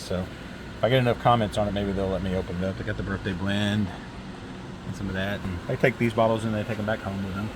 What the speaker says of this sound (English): There's a fan going. That's that noise you hear.